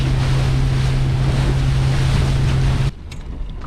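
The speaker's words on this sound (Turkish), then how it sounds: "Çok rüzgar var." Loud, steady wind roars across open water with waves around a boat, buffeting the microphone, then cuts off abruptly near the end.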